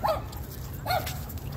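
Two short dog barks or yips from a Cane Corso or huskies at a dog park, one at the start and another just under a second later, fairly close, with quiet background between.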